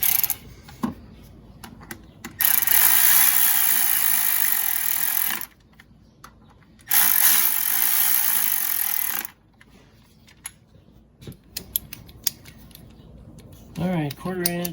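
A hand ratchet reinstalls 10mm bolts on a Honda Pilot's power steering pump. Fast, close clicking comes in two long runs of a few seconds each, with scattered metallic taps between them and a brief voice at the end.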